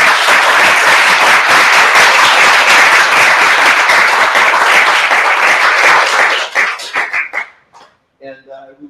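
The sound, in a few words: audience applause after a dissertation defense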